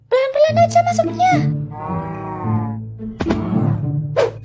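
Mooshroom cows in the Minecraft video game give drawn-out moos in a couple of bursts, mixed with animated character voices talking in the same scene.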